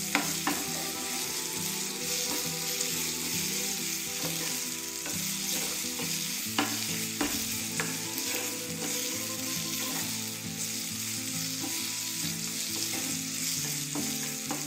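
Potato vada masala sizzles steadily in a little oil in a pan as it is sautéed and stirred, with scraping spoon strokes and small clinks over a constant close frying hiss.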